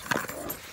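A pet dog gives a brief, close whimpering yelp indoors, a single short sound that quickly fades to quiet room noise.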